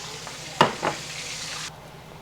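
Escovitch fish frying in a hot skillet, a close steady sizzle with two brief scraping knocks near the start, then the hiss fading abruptly to a lower hum.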